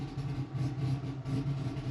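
A DSM drag car with a Haltech setup, fresh turbo and new cylinder head, idles close by in a steady, low, loping rumble with faint rhythmic pulsing and no talk over it.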